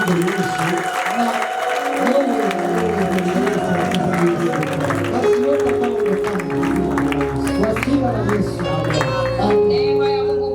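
Church congregation clapping hands together in worship, a steady dense patter of many hands under singing and music, loud and continuous throughout.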